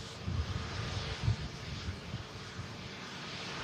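Jet2 airliner coming in to land after a flight from Palma de Mallorca, a steady distant engine roar with low rumbling and wind noise, heard alone.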